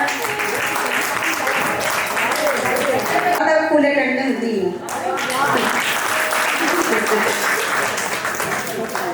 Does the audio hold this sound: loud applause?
yes